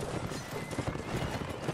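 Galloping horse hooves in a Napoleonic Wars line-battle video game, rapid repeated clip-clop beats close by over a dense, noisy battlefield background.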